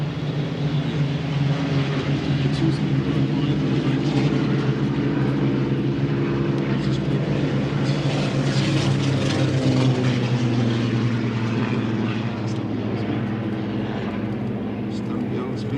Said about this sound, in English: lots of Spitfires taking off